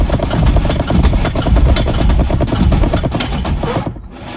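A Citroën C3 engine run without oil, shaking in a loud, uneven chugging rumble as it nearly restarts, then cutting off abruptly near the end with no talk.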